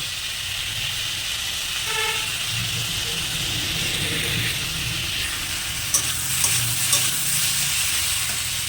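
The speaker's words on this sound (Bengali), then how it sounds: "ঝোল মাছ তেল মাখিয়ে তেলে দিলাম তাও ফুটে এসে আমার হাতে পড়লো" Jiol fish coated in oil fries and spatters in hot oil, a loud continuous sizzle with crackling pops and a few sharper clicks toward the end, no speech over it.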